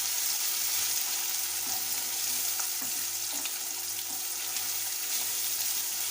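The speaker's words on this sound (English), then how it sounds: "when it is soft then you will add ginger and garlic paste" Ginger garlic paste frying in a pan, a loud, continuous close-up sizzle with a few soft stirring scrapes, and no one speaking.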